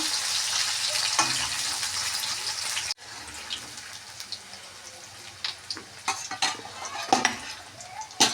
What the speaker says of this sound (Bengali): এবার আমি একটু লাল লাল করে পনিরটাকে ভেজে নেব